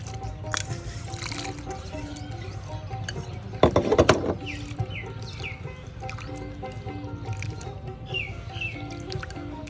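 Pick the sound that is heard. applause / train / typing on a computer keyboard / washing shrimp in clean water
washing shrimp in clean water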